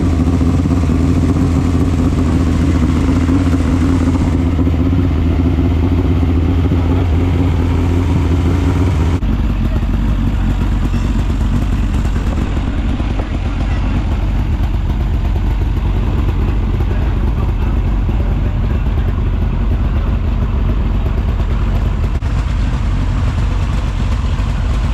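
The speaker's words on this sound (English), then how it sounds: "It's about to go do warm-ups and get some engine heat." A loud race car engine idles close by during warm-up with a rough, steady rumble, shifting to a lower, throatier drone partway through, running continuously without voices.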